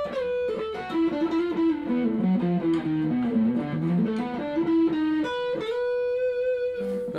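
A 1973 Gibson Howard Roberts archtop electric guitar is played through distortion, a run of single notes and a melodic line ending on a sustained held chord, loud and alone.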